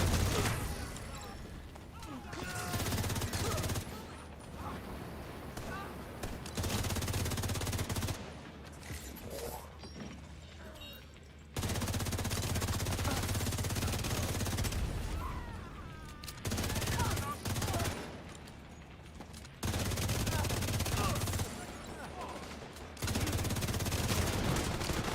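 Weapon firing shock ammo in The Division 2, with loud bursts of automatic gunfire in repeated volleys separated by brief pauses, over game sounds with some talk.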